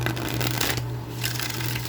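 Close, steady rustling and riffling of cards being shuffled over a low constant hum, a continuous papery flutter without speech.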